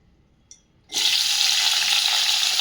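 Drained sweet potato slices hit hot ghee, and a loud, hissing sizzle bursts in just under a second in and holds steady to the end, following a quiet start.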